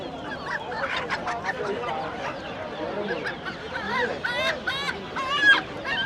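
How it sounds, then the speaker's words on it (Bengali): Native Bangladeshi ducks at a busy weekly market, quacking and honking in repeated nasal calls that grow louder and more frequent toward the end, over a crowded background of voices. "সব দেশি হাঁস।"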